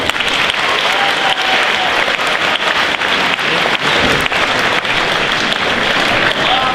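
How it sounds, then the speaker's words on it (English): A school audience at a half-year celebration claps in a dense, sustained round of applause that stays loud and steady throughout, with no let-up. "I ask that we all give Claire, Kevin, and Mr. Hibbert one more round of applause."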